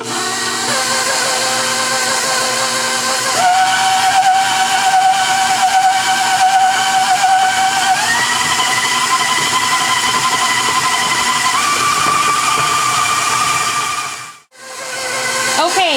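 An electric mixer creams butter and sugar for a pound cake, a loud, steady whine that steps up in pitch several times before cutting out briefly near the end.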